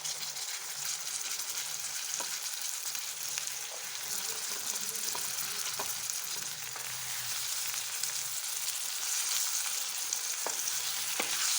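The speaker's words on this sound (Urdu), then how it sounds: "ہم گھی میں اچھے سے فرائی کر لیں گے۔" Sliced potatoes fry in ghee for an egg masala, a steady broadband sizzle running throughout with occasional light clicks of stirring, close and even in level, no talking.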